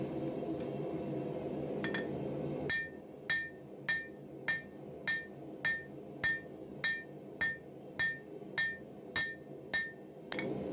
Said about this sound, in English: I'm going to use the rounding side of the hammer in order to get rid of all of those depressions